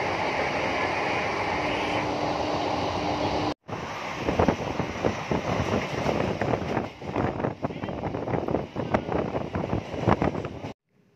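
A train at Barrackpore railway station, heard as a loud, continuous rumble with clattering wheel beats and wind buffeting the microphone, interrupted by a brief cut and then fading sharply at the end.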